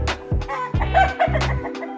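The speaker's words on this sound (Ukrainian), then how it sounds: "А тут Когути кури сваряться." Chickens clucking and squawking in short overlapping bursts as roosters and hens squabble in a village yard, a rooster's voice among them, fairly close, with a steady hum of bees underneath.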